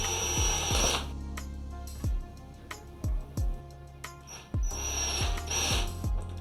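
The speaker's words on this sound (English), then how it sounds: "one other tiny little hole that you will need to drill into this container" A small drill bores a tiny hole into a plastic container for a deep water culture cloner, in short separate bursts with a ratcheting whir, each spin-up followed by quiet pauses, close to the microphone.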